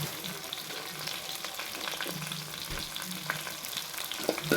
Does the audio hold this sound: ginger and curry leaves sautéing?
yes